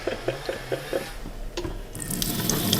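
A tap at a snowbound cabin sputters and spits at first, with short rhythmic bursts, then water gushes steadily and grows louder and fuller, with no talking.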